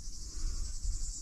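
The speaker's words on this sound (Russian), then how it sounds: "Насколько я понимаю, вот это цикада." A steady, high-pitched buzz of cicadas drones continuously in a Crimean vineyard, with a low rumble underneath and no talking.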